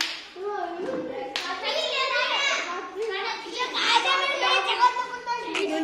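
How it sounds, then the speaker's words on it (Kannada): Children clapping in a classroom, a scattered burst of hand claps mixed with lively, overlapping children's voices close by. "ಚಪ್ಪಾಳೆ ಹೊಡಪ್ಪ"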